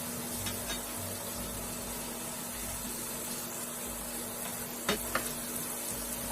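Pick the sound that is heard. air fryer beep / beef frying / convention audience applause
beef frying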